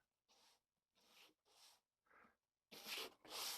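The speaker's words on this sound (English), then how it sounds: "I've got it, the sanding board locked between the tool rest and the tailstock" A sanding board held between a lathe's tool rest and tailstock rasps against spinning wood in six short, scratchy bursts separated by silences, the last two louder and harsher.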